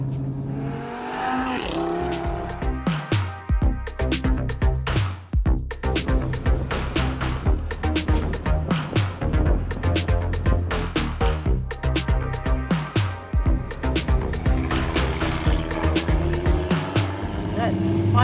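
A modified Audi RS3 Quattro making 502 wheel horsepower accelerates hard on an open road near Sepang, its engine note rising and falling loudly and continuously throughout with constant tire and wind roar.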